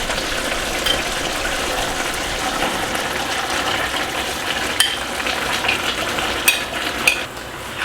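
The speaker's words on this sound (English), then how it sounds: "We're going to mix them around and distribute them evenly throughout the pan." Fresh corn kernels stirred through a hot puree-like mixture in a pan over lowered heat, making a steady close sizzle and frying crackle with scraping and mixing noises and a few sharp clinks of the spoon against the pan.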